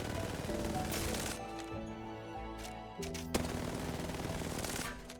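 Bursts of R31 rifle fire from the Apex Legends video game come in rapid repeated shots, the first stretch followed by a pause and then another sustained burst, mixed with game music tones and a voice talking over it.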